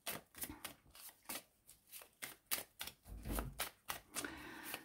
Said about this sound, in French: On va se faire le tirage sentimental avec mes petites cartes chouchoutes.